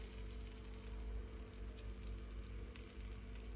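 Eggs frying on a hot griddle over a village kitchen stove, giving a faint, steady sizzle and crackle with a low hum underneath.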